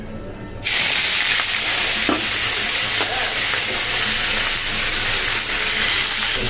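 Radish and radish greens drop into hot mustard oil and burst into a loud, close sizzle after a brief quieter moment, then keep frying with a strong, steady hiss.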